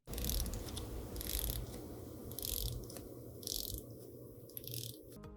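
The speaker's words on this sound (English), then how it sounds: "Let's listen to the bezel." Close, quiet ratcheting clicks come from the bezel of a Seiko SLA051 watch as it is turned, arriving in short bursts of rapid clicks roughly once a second with brief pauses between them.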